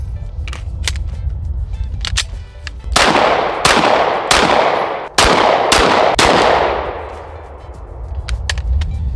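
Pistol fitted with a Recover Tactical 20/20 stabilizer kit fires a string of about seven loud, sharp gunshots at an outdoor range, spaced roughly half a second to a second apart, each followed by a brief decaying echo.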